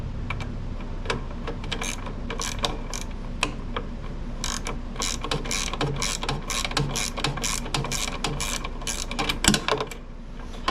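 Ratcheting as a 9/16 bolt is loosened and removed from a Simplicity Briggs & Stratton snow blower during belt and idler pulley work, a steady run of quick close clicks across the whole clip.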